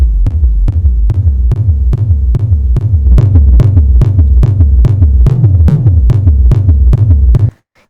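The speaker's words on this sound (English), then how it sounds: "we're going to make a rumble using it" Heavily processed techno rumble from a warped, stretched synth sound pitched down, run through reverb and distortion and low-passed: a steady pulsing throb of about eighteen even, booming low hits, loud and alone, cutting off abruptly at the end.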